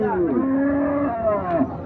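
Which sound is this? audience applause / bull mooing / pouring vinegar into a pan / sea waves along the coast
bull mooing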